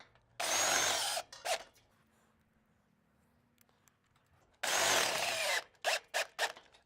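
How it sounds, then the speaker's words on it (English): A power drill drives Tek screws into a metal hoop frame in two loud bursts of whirring, each followed by a few short stuttering pulses, with quiet gaps between. "We've got 3 holes there to get it good and attached with Tek screws."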